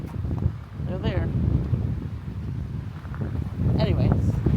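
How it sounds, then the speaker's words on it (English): Wind buffets a microphone at a high lookout in Arizona: a steady, close, low roar that swells and eases, with brief faint voice fragments. "It's a little windy right up here"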